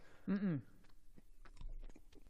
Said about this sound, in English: It's like a turkey, a beef stick. I'm chewing like right into the microphone.